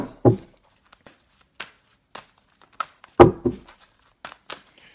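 Intermittent papery crinkles and soft slaps of tarot cards being shuffled, irregular bursts with quiet gaps, close by and without speech.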